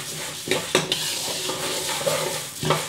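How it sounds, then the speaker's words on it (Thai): Mung beans dry-roast in a pan over low heat, a soft rustling hiss broken by several quick scrapes and clinks of stirring, close by and without speech. "เราเอาถั่วมาคั่วให้พอหอมก่อนนะคะ"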